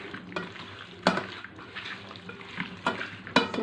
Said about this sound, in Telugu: ఇదంతా కలిసేటట్టు కలుపుకున్నామండి